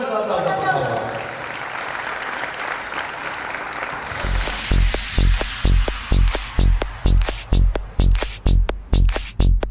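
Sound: audience applause at an awards ceremony

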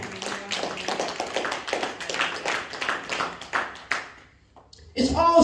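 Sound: church congregation clapping

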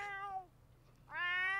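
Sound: cat meowing in The Sims 4 video game

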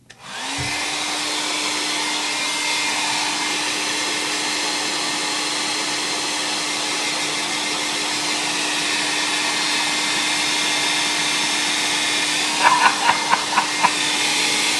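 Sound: hair dryer drying artwork

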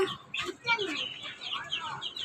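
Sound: chickens clucking in hen house

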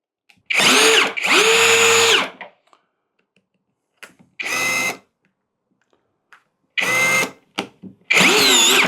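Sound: Assur cordless drill driving a screw

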